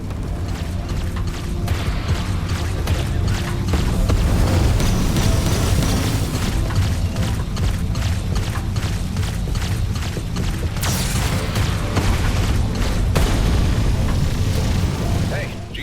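Spaceship weapons fire and explosions in the space combat game Everspace 2, with dense layered booms and mechanical rumble running continuously at steady loudness, voices talking over the battle.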